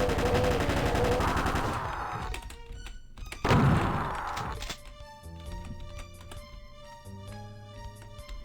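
Weapon gunfire during a Doom custom map playtest, a dense burst of loud rapid shots, then a heavy thunk and another loud blast, followed by quieter tonal mechanical game sounds and hums; no voices.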